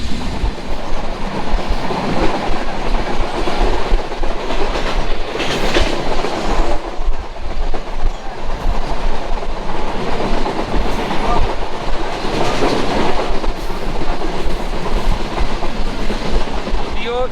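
The Chilahati Express passenger train rumbles steadily along the tracks for the whole stretch, loud and close, with rhythmic wheel clatter and broadband roar.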